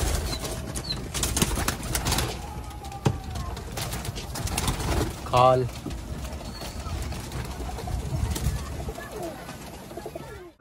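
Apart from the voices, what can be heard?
pigeons cooing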